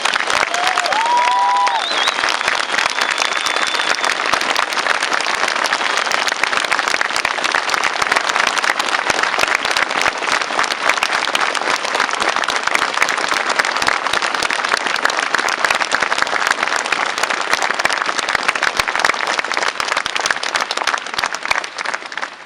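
Sustained, loud applause from a large audience at a memorial concert in Ivano-Frankivsk, dense steady clapping filling the hall for over twenty seconds, with a brief whistle near the start.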